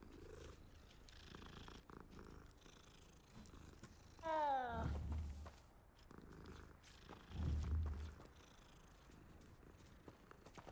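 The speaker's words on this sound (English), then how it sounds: "Oh, it's a cat." Steady low purring from a cat in Hogwarts Legacy, heard in two louder swells under quiet game ambience, with a brief meow-like chirp in between.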